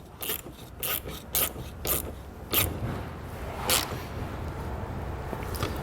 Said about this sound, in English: get the nut going again. Make sure we get this snug, tighten down